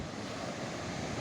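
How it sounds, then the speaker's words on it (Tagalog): Big typhoon waves crashing on the shore, a continuous loud roar of surf mixed with wind buffeting the microphone, filling the short stretch without pause. "lalaki talaga ng alon"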